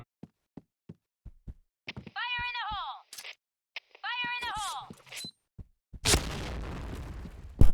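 Sharp clicks and tonal electronic game effects lead into a bomb blast in a video game, a sudden loud, rumbling burst near the end that dominates everything before it.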